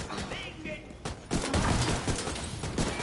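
Bursts of gunfire in the shooter The Division 2, amid a fiery area with leaking chemicals: dense rattling shots and thuds, mostly after the first second, over game noise with players talking throughout.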